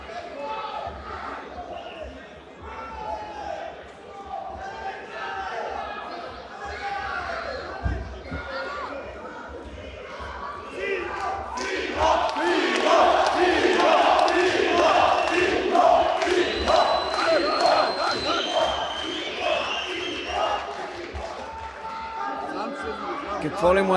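Home crowd roaring and cheering for Simeon Nakovski at a MAX FIGHT kickboxing bout, a steady dense din that swells louder and more excited partway through, with whoops and shouts rising above it.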